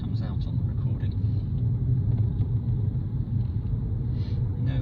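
Peugeot e-208 electric car driving along, a steady low rumble of road and tyre noise from inside the cabin, continuous and fairly loud throughout.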